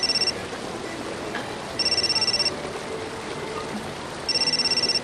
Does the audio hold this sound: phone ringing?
yes